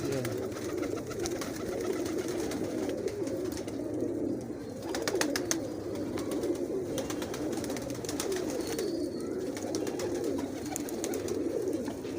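Pigeons coo steadily in a low, soft murmur throughout, with occasional wing flutters and faint background noise.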